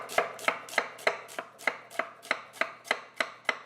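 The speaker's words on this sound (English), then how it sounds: "So slice that in half, slice this again, and chop it on down." A knife chops fennel on a cutting board in a steady rhythm of about a dozen crisp, evenly spaced thuds, close and clear with no talking.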